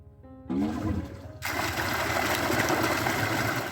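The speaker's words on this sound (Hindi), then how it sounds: "तो अब समर को चलाते हैं, ऑटो ऑन करते हैं इसका" A submersible water pump switches on with a click and steady whir, then water rushes out loudly into a field, a constant gushing roar that fills the rest of the clip.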